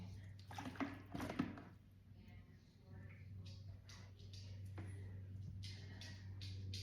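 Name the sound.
clay water siphoning from a clay trap into a bucket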